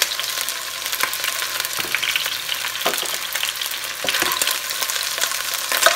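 Chicken frying in oil while rice is cooked in a Puerto Rican style, with a loud, continuous close-up sizzle and scattered crackles and pops, without talk.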